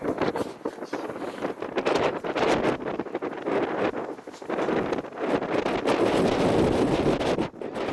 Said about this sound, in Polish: Porywisty wiatr, to nie jest jakiś tam stały, typowo szturmowy.